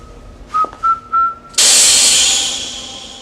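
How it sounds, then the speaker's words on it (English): A stun-gas keychain from a Bond film gives three short whistle toots, followed by a loud burst of hissing gas that slowly trails off. "a nifty little keychain that releases stun gas when you whistle into it"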